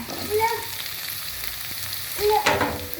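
Chopped boiled chicken liver tossed into a pan of wilted vegetables for a lumpia filling, giving a steady sizzle with spatula scrapes and two louder bursts of stirring and clatter.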